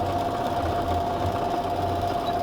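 A sewing machine stitching along both sides of a diagonal line on a patchwork block, a close, steady mechanical hum with a fast even whir, running alone with no talk.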